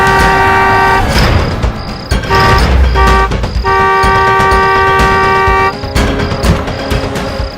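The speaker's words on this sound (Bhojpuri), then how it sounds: "हॉर्न सुनाई नहीं पड़ता है?" Loud vehicle horns honking on a road, several long sustained blasts broken by short gaps, harsh and close, with engine rumble beneath.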